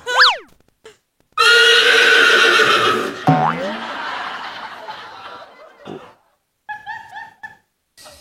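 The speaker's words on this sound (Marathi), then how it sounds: "उधळलेला घोडा" A horse neighs on a Marathi comedy stage show, a loud rising whinny followed by snorting and shrill squealing bursts, with laughter-like sounds and short pauses between.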